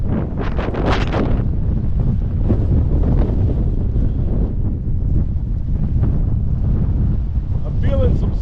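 Strong wind of a Kansas dust storm buffeting the microphone with a heavy, continuous roar and gusty bursts, loud and close throughout, with gravel and dirt blowing near a camper.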